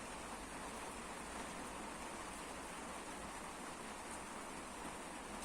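Steady, dense rain hissing evenly throughout at night around a roadside camping shelter, a constant wash of falling water with no breaks or voices.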